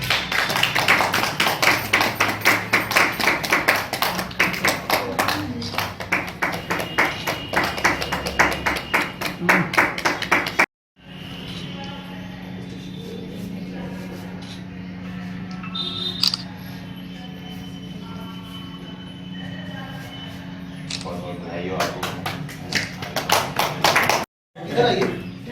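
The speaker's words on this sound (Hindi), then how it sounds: "ताली बजाओ सब लोग" A group of people claps together at a Gorakhpur police public event, a steady patter of many hands for about ten seconds. After a short cut it gives way to chatter and speech, with the clapping no longer clear.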